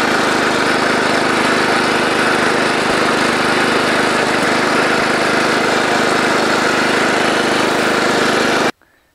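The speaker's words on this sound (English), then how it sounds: "So I take the tiller, go down this row, make a second pass on it" Small gasoline garden tiller engine working down corn rows outdoors, a loud steady droning buzz held constant for several seconds before cutting off abruptly at the end.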